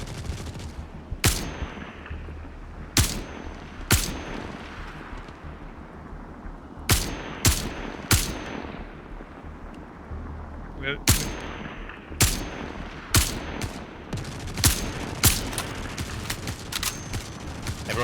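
Video-game gunfire in Star Citizen, a military squad laying down suppressing fire: loud, sharp single shots and short bursts come at irregular intervals, some close and some more distant, with faint radio chatter underneath.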